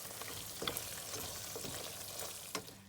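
Fenugreek leaves stirred into a simmering pan of chicken tikka masala: soft continuous sizzle with a few scraping spoon strokes, moderately quiet and close, no speech.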